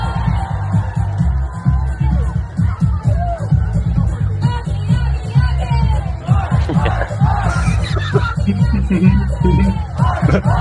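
A crowd yells and shouts an oggy oggy oggy oi oi oi chant, loose and out of rhythm, with rough bellowing voices over a low rumble of massed noise.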